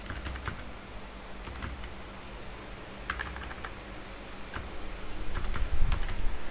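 Steady typing on a computer keyboard, heard alone as a soft, uneven run of key clicks at close range, with a few brief louder bursts of keystrokes near the end.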